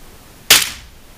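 A single loud, close gunshot from a real firearm on a shooting range, a sharp crack that decays within a fraction of a second into near silence.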